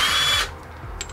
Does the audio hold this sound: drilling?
yes